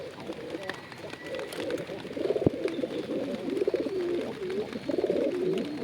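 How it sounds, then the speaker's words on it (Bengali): Pigeons kept in a home loft coo close by in repeated rolling, throaty phrases, with a sharp tap near the middle and a soft voice in the background. "পায়রা তো আসলে ফোনের কারণে ভয়ে কিন্তু ওইদিকে চলে গিয়েছে"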